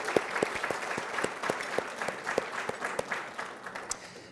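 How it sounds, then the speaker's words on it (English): Scattered audience applause at a city State of the City address, individual sharp claps distinct and irregular, moderately near, sustained but thin and steady throughout. "a round of applause would definitely be appreciated for her."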